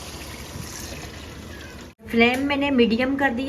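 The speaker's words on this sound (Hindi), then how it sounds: "अब हम इसके अंदर डालेंगे पानी।" Water poured into a pot of fried beef cooking in oil over a medium flame gives a steady pouring, sizzling wash for about two seconds, then a person talks over the simmering pot.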